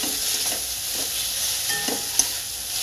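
Papaya filling cooks with ghee in a pan, stirred with soft repeated scrapes over a constant close sizzling hiss, and a single sharp click near the end.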